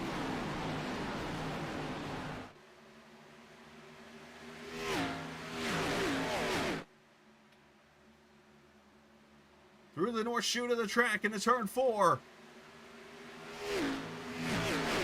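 Stock cars in an Xfinity Series sim race at Indy drone and rev in bursts, with a sharp multi-car engine surge midway, mostly under a commentator's voice.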